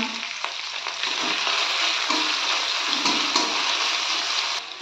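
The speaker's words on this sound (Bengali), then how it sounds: "মশলাগুলো একটু নেড়ে চেড়ে তার মধ্যে আমি কেটে রাখা টমেটোগুলো দিয়ে দিলাম।" Chopped tomatoes tipped into a pan of frying spices for a vegetarian cabbage ghonto, then stirred, giving a steady close sizzle and spatter that holds loud and unbroken for the whole stretch.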